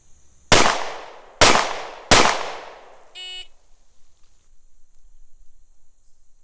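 Three loud, sharp gunshots from an M&P40 1.0 handgun ring out close by in quick, even succession during a kneeling law-enforcement pistol qualification, each trailing off before a faint metallic chime and near-silence.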